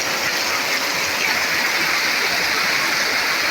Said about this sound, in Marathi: पाऊस पडता बघा काय तो